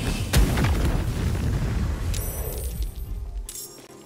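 A fire spell bursting in Baldur's Gate 3, with a sharp boom up front and a rumbling, crackling blaze that sustains for a few seconds before a brief ringing chime at the end.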